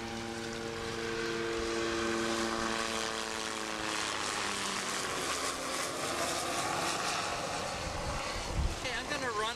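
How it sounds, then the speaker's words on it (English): A helicopter passes low overhead above the ocean near a harbor break wall off Los Angeles County's South Bay, its loud droning engine and rotor tone sliding downward in pitch as it goes by, over a steady bed of wind and water. "the helicopters like this one just coming up to us"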